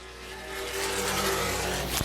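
NAPA late model race cars roar around the half-mile Baer Field Speedway, a loud engine howl that swells and holds as the pack goes by, with no talk over it.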